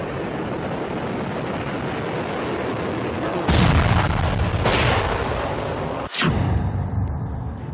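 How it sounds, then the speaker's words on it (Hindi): An Agni 5 missile lifts off from Wheeler Island, Odisha, with a sudden loud, broad roar that keeps rumbling over steady background noise, followed by a sharp blast-like burst near the end. "उड़ीसा के व्हीलर द्वीप से एक धमाके के साथ भारत की महान मिसाइल आसमान का सीना चीरते हुए दहाड़ने लगी"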